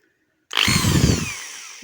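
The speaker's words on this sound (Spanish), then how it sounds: "Vamos a percutor. Pasemos a percutor." A DeWalt drill switched to hammer mode after maintenance, starting abruptly with a loud rattling, percussive buzz and high whine, then winding down as the trigger is released.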